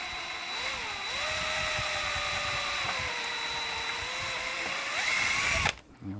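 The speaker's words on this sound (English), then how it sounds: "I'm just going to drill it now, and then I'll put JB weld into that." A power drill bores into a motorcycle exhaust being patched, a steady close whine that rises and dips in pitch for several seconds before cutting off abruptly near the end.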